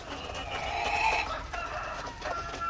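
Chickens cluck and murmur close by, several birds overlapping in a busy, continuous barnyard chatter.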